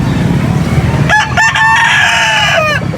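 A rooster crows once at a busy pet market, its long harmonic call rising and holding for about two seconds over a steady murmur of crowd noise and distant voices.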